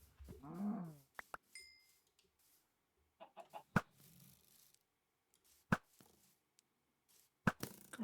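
A Minecraft chicken clucks in short bursts, set among sparse clicks and sharp block-breaking hits in an otherwise quiet game scene.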